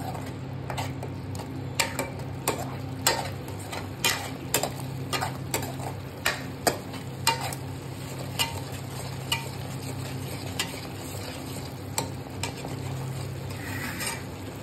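Red chili and salt stirred into pav ragda in a pan, with a spoon clicking against the metal at a steady, regular rhythm over a soft continuous sizzle, close and alone without talk.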